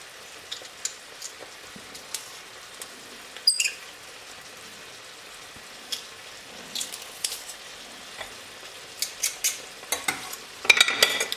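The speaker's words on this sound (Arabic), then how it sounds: "صافي غادي نخلي الكل يتشحر جيدا." Garlic and filling frying in a pan, with a soft steady sizzle and scattered scraping, clinking stirs that come louder toward the end.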